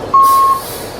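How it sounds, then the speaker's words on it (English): A concrete truck backs in on arrival, sounding one loud, close reversing beep held as a sustained tone. It cuts off and leaves a low engine rumble. "here comes truck number 2"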